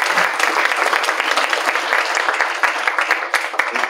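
An audience at a judicial circuit gathering applauds, producing dense, steady clapping at close range that lasts throughout, with no voices above it.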